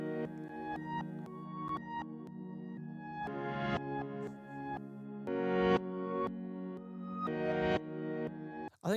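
A quiet electronic beat melody built from synth notes, with reversed audio segments that swell into choppy, rhythmic phrases and end on a sudden reversed sweep.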